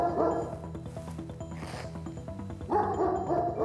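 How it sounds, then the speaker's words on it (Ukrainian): A lone dog at a country villa with a garage and gazebo barks and yips in a quick series of close, sharp barks, with whimpering tones between bursts. "Охайний газон, альтанка, гараж і одинокий пес."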